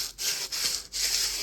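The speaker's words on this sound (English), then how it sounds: "starting by sanding down the top part of the bench" Sandpaper rubs back and forth across the top of a small bench glued from wooden Jenga blocks, three long raspy strokes with brief gaps, close and steady, no voices.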